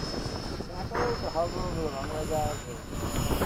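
Aircraft passing overhead at an airfield where an A-10 is parked, giving a steady broad engine roar with a faint high whine throughout, fairly close and continuous, with voices mixed in.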